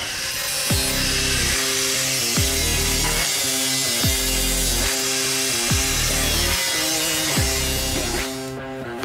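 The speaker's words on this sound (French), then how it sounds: "Allez, on sort la disqueuse." An angle grinder working on the chassis rail of a Toyota Hiace 4x4. It sounds loud and close, with repeated strokes that rise and fall as the disc bites into the metal and eases off. Nobody talks.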